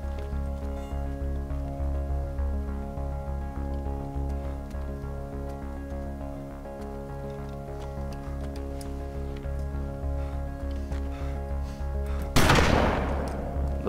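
A steady hum with rapid repetitive clicking runs throughout, then a single sharp, loud gunshot cracks near the end, in the video game DayZ Standalone.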